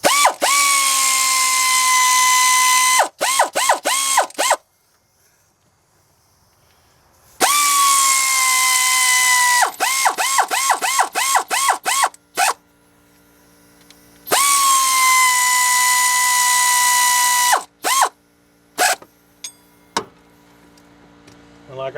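A heavy ratchet snugs 10mm bolts on a Tahoe water pump: three close, loud bursts of steady whirring, each followed by quick clicking, separated by short quiet gaps.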